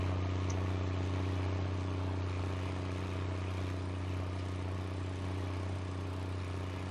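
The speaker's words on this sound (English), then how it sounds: "Very different engine sound on this one. Love it. This is the engine sound of tractors from my youth." The engine of a small International tractor in Farming Simulator 19 runs with a steady, low droning hum. It stays constant and unbroken throughout, with no talking.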